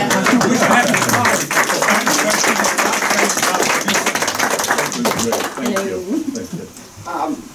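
Meeting attendees at a fire district special board meeting clap for a community member, a loud, dense burst of hand claps that thins out and fades near the end.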